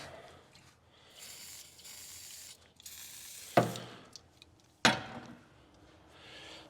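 Ratchet wrench clicking as a nut is snugged onto a stud on the starter of a 1935 Ford coupe with a flathead V8, steady close ratcheting followed by two sharp metallic knocks.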